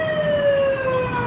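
A volunteer fire brigade truck's siren wails steadily at a street caravan, a loud continuous tone sliding slowly downward, close by with road rumble beneath.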